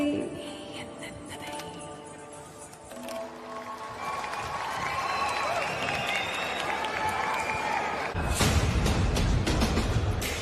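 An audience applauds for the team, the band and the singer at a Tamil music show, steady clapping and crowd noise building over several seconds and swelling loudly near the end.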